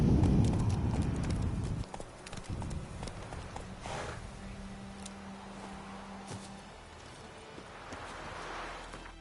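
Roach, a horse in The Witcher 3: Wild Hunt, clops along with a rumbling hoofbeat rush at first that fades into quieter, scattered steps, alongside a brief whinny-like tone and a soft rushing wind.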